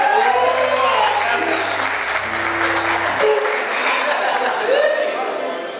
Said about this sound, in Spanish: un aplauso para César Ayala, de la tercera sección de esquina